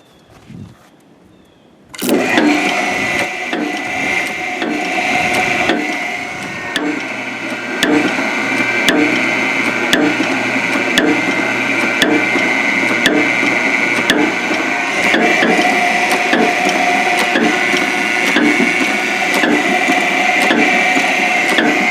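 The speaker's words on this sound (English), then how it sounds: "I got it set up in my big old antiquated hydraulic press here" An old electric hydraulic press presses the plunger out of a Ruston Hornsby 7XHR injection pump. A loud motor starts abruptly and runs as a steady close hum with a regular ticking pulse throughout.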